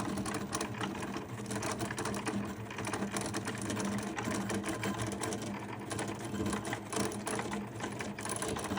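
A Cricut Maker 4 cutting sticker paper on a higher pressure setting gives a steady, loud mechanical whir with rapid stuttering clicks, running continuously and close throughout with no talking.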